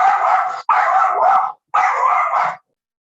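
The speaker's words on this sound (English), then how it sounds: "you didn't have to hear my dog say hello" A pet dog barks at home during an online public hearing: three loud, close, drawn-out barks or yips in quick succession, with a short gap before the last, then silence.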